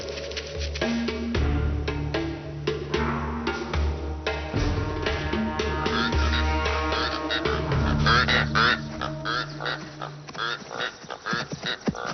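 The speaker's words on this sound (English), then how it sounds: "The springbok is spooked by the Rupel's koran birds." Rüppell's korhaan birds give repeated raucous, croaking calls in the wild, loud and close, overlapping in a dense chorus throughout with a low steady rumble beneath.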